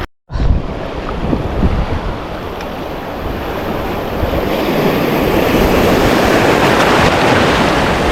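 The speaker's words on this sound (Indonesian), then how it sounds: "karena kadang-kadang ombaknya bangun ya" Sea waves roll and wash at a shallow reef fishing spot off an island in Aceh Besar, a loud continuous surf roar mixed with wind buffeting the microphone, building slightly stronger toward the end.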